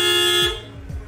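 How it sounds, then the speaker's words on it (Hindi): Horn on a Maruti Suzuki A Star sounded during an electrical inspection at a service workshop: one loud, steady honk held near and alone for under half a second before cutting off. "हॉर्न,"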